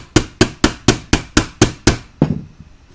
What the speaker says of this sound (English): I'm going to use another screwdriver to do this, in bitter irony.